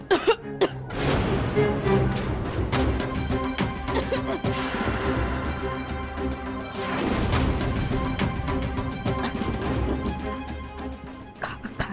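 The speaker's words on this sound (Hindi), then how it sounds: "खांसी आ गई।" Repeated hacking coughs and throat clearing, loud and close, in several bursts over a busy background of other sounds.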